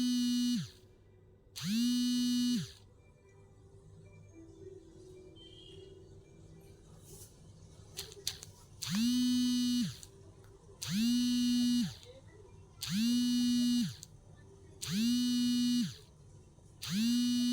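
An electric sewing machine stitches the body and lining of a crop top together, running in six short, even motor bursts of about a second each, with quiet pauses and faint handling sounds between them.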